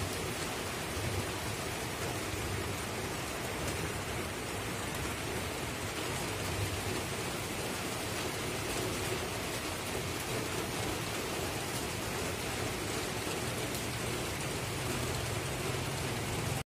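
Steady, even hiss of rain falling on surfaces, continuous and moderately loud with no voices.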